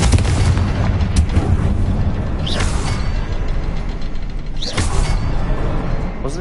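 A Confringo explosion spell cast in Hogwarts Legacy lets out two sharp, booming bursts with a crackling mechanical tail, set over a dense, continuous rumbling background.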